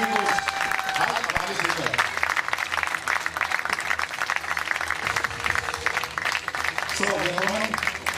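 Sustained crowd applause honouring the women's winners at a running championship awards ceremony in Bad Herrenalb, a dense steady patter of many hands, with a speaker's voice briefly over it at the start and end.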